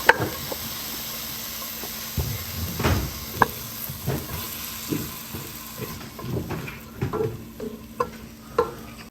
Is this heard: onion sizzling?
yes